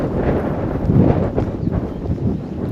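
Light wind buffeting a microphone on open heathland at Holt Heath nature reserve, a soft uneven low rushing with a few stronger gusts over a couple of seconds.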